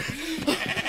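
A sheep bleats in a Dragons audio drama, a short, close, wavering cry followed by a few more broken bleating sounds, with no one speaking.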